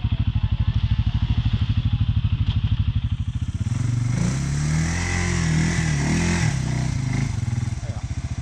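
An ATV engine stuck in soft sand throbs in a rapid, pulsing rhythm, then revs harder and holds a loud, straining drone before dropping back to pulsing, close by with voices talking over it.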